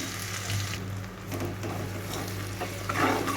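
Chopped garlic and ginger hit hot oil in a wok while cooking chilli chicken, a steady close sizzle with bits of stirring and scraping throughout.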